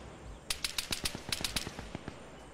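Rapid automatic gunfire in a Vietnam War video game, Mauo Sung Island mission, rattles off in a quick string of about a dozen sharp shots over a couple of seconds, fairly close and alone without talk.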